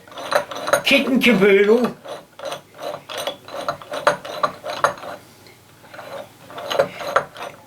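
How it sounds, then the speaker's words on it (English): Threaded rods of a wooden hand screw clamp kit being turned through their nuts, giving a close run of rhythmic ratcheting clicks and small metallic clatters, with a short burst of speech near the start. "you can then now start threading the whole"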